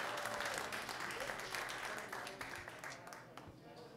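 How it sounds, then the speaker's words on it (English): Faint crowd applause fills a brewery concert hall after a live set, a continuous patter of clapping that gradually thins toward the end, with some talk mixed in underneath. "So one more big round of applause for this lady."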